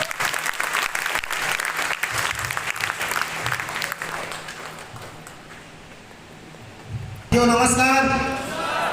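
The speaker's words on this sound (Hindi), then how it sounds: "आदरणीय राम बाबू ठाकुर को आपके जोरदार तालियों के साथ।" Audience at an RCM business meeting in Darbhanga breaks into loud, sustained applause that gradually fades, ending with a voice speaking over the hall.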